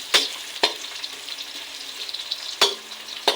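Onions frying in a pan for chicken tinola, a steady close sizzle broken by a few sharp scraping knocks of a spoon stirring against the pan.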